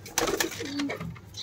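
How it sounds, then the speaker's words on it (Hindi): Madrasi pigeon chicks give a few soft, brief coos and calls, fairly close and quiet, with light rustling in the background. "मद्रासी कबूतर के बच्चे हैं,"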